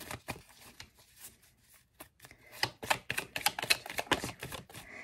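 Tarot cards being shuffled and drawn at close range, a quiet series of papery flicks and riffles that grows denser and busier toward the end.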